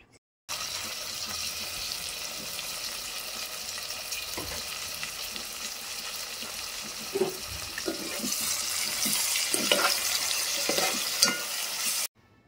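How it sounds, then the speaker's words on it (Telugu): Chopped tomato pieces cooking down with onions and turmeric for chicken dum biryani, a steady sizzle with intermittent stirring and scraping that grows louder toward the end. "మనం తరిగి పెట్టుకున్న టొమాటో ముక్కల్ని కూడా వేసుకొని గుజ్జు అయ్యేంత వరకు బాగా మగ్గనివ్వాలి"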